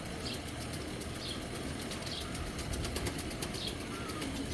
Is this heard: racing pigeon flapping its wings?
yes